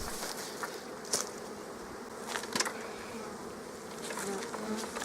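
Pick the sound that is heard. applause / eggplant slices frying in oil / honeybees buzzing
honeybees buzzing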